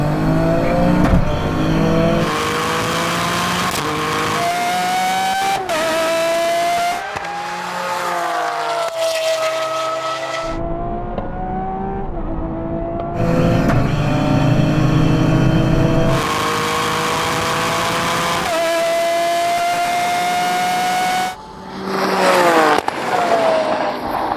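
A 600 hp Toyota GR Yaris and a Lamborghini Aventador SV accelerate hard in a drag race, launching in third gear. Loud engines rise steadily in pitch through long pulls, broken by sharp gear changes, and run continuously for over twenty seconds.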